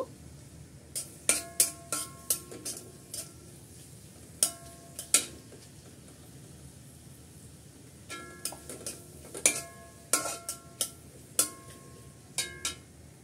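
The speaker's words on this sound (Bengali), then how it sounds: "আর পেঁয়াজটা আমি একটু বেরেস্তা করে ভেজে নেব।" Onions fry in soybean oil in a home kitchen, a soft steady sizzle beneath repeated sharp metallic taps and scrapes of a utensil stirring against the pan in irregular clusters.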